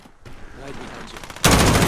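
Gunfire in a first-person team deathmatch video game on the St. Petrograd map. Shooting builds up and then bursts into loud, sustained rapid fire near the end, with a voice speaking over it.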